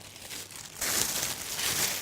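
A plastic sheet crinkles as it is laid into a container for making a sushi cake, producing a continuous soft rustle that grows louder partway through, with no talking.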